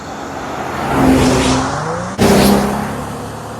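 Used car on a test drive accelerating under throttle, engine note climbing loudly twice with a brief break between surges, close and without voices.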